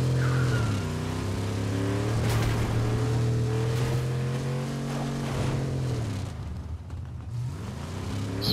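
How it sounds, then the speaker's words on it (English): Vehicles driving around in the video game Fortnite, a steady droning engine hum with shifting pitch sweeping up and down, continuous and fairly close, fading slightly near the end. "I think I heard other vehicles driving around"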